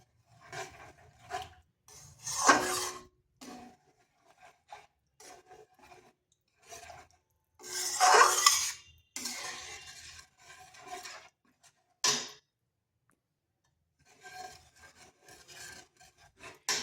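Patisapta pitha batter is stirred and mixed in a bowl, giving intermittent scraping and rubbing strokes with pauses between, some strokes louder and rasping.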